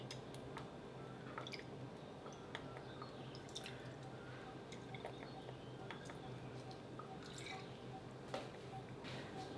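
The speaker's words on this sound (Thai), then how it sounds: "ใส่น้ำปลาลงไปเสร็จแล้วก็ คลุกเคล้าให้ทั่วนะครับ" King mackerel pieces being gently turned and mixed with fish sauce, giving quiet, close, wet squishing with scattered small drips and splashes throughout.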